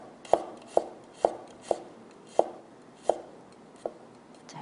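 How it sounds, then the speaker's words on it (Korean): A knife thinly slices garlic cloves on a cutting board, producing seven sharp, evenly spaced taps close up with quiet gaps between them and no talk. "편썰기를 합니다."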